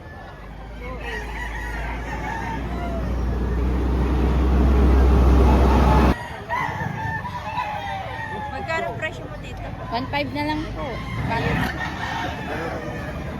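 Chickens and roosters at a rooster market in Lipa, Batangas, with crowing and clucking amid a loud rumbling background and people talking throughout.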